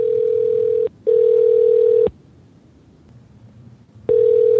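A telephone call rings out on the line, a loud steady tone in long bursts separated by short and longer gaps of quiet, heard clearly with no talking over it.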